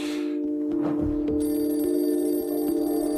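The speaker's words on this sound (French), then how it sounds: "Vers 2 heures du matin, le téléphone sonne." A telephone rings in the small hours, its ringing tone standing out over a steady electrical hum with bright sustained tones, alone with no talk.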